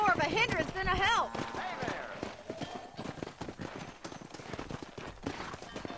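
Horse hooves clip-clop in a fast, uneven rhythm in Red Dead Redemption 2 on a cattle drive, with a neigh near the start and voices talking over the hoofbeats.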